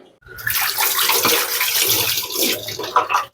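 Prawns and fish being rinsed under running tap water, a loud, close, continuous gush and splash that shifts as the seafood moves through the stream, then cuts off abruptly.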